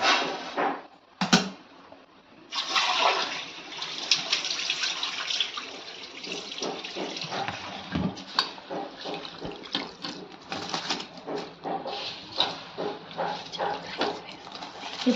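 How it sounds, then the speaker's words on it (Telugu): Rice is poured into a pot of boiling water while coconut rice is being cooked, giving a close rushing, bubbling wash of sound with a short pause partway through and scattered pattering. "ఇప్పుడైతే రైస్ వేస్తున్నామండి."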